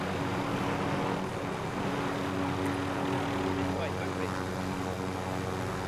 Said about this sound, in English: Two helicopters over there fighting each other in the air.